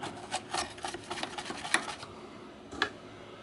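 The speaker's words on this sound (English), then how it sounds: "I just got Windex and a brush. And just scrub it down good." A brush scrubs a circuit board from an H H Scott 370R receiver, wet with Windex, in quick, uneven rasping strokes close to the mic, with a couple of sharper scrapes near the end.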